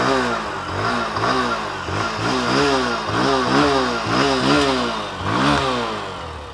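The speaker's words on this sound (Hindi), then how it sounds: "अब आइडियल कंडीशन में इंजन साउंड सुनो" A Bajaj Platina 100 Fi, a 100 cc commuter motorcycle, runs steadily with no words spoken. The engine is close and loud, giving a smooth, even putter with a regular firing rhythm and small surges in level.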